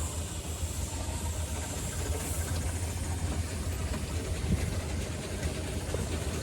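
A 4-inch scale barrel DCC miniature steam road locomotive named Persevere, built 2019, runs at a steady rumbling chug with a low throbbing beat and broadband hiss, continuous and fairly close, with crowd ambience at a steam rally behind.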